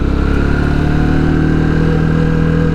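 A motorcycle engine idles close by on a winter ride near Ohrid, a steady even putter with a low droning hum and no change in pace, with no voices over it.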